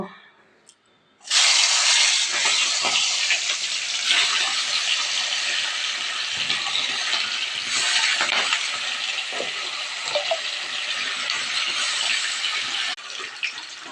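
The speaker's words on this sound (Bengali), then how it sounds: "কড়াইতে দেখো তেল গরম হয়ে গেছে, এবার মাছগুলো আমরা ভেজে নেব।" Fish frying in hot oil in a wok, a loud steady broadband sizzle that bursts in abruptly after a quiet opening and keeps hissing close up for the rest of the clip.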